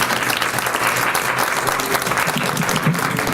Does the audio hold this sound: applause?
yes